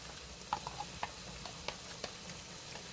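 A sauce of soy sauce, sesame oil, stock and cornstarch being stirred for a Chinese-style pork stir-fry, heard as a few soft, faint clicks and scrapes of a utensil against the container, spaced irregularly over a low background hiss.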